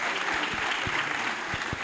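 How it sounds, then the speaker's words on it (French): Steady applause from an audience at a national assembly session, moderately distant, continuing evenly throughout with no voices over it. "Vous applaudissez."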